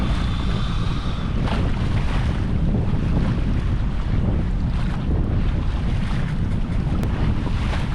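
Sailboat motoring at sea under engine power on a windless day, a constant low rumble mixed with water rushing along the hull and heavy wind buffeting on the microphone, steady for the whole stretch with no talk.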